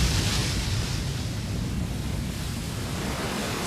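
Large ocean waves roar against a shoreline in a steady, dense wash of rumbling surf with no distinct breaks, loud and continuous throughout.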